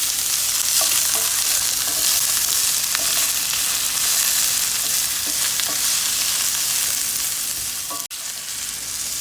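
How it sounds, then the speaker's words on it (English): Zucchini and other vegetables frying on high heat with a little salt for bibimbap, making a loud, steady sizzle with scattered light ticks and one sharp knock near the end. "Start them, high heat. Continue cooking your vegetables."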